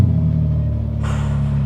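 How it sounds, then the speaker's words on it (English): BMW G80 M3 Competition exhaust while driving, a loud deep steady drone from inside the car that gains a brighter, rising edge near the end. "That exhaust note, you know what it is? It's perfect."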